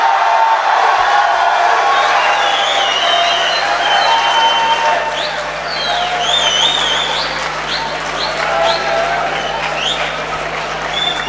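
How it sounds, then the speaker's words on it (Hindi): Sustained audience applause at a mushaira welcoming an Urdu poet, a dense steady wash of clapping with scattered whistles and cheers from the crowd that holds at a loud, even level throughout. "तालियों का सिलसिला रुकना नहीं चाहिए।"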